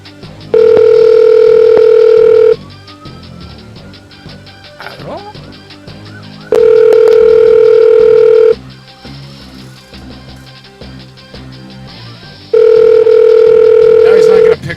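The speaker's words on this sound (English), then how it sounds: "Our phone is gonna ring, of course." Outgoing phone call ringback on a speakerphone, three long steady electronic rings about six seconds apart, loud and close, with clattering, bumps and background voices between the rings.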